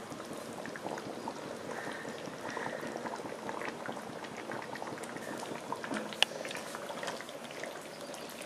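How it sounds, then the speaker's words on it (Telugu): Andhra-style Nellore fish curry simmers in a pot with a continuous, even bubbling and gentle blipping that holds steady for several seconds, close and moderately quiet, with one small clink partway through and no talking. "కూరని ఇంకొంచెం ఉడికించండి."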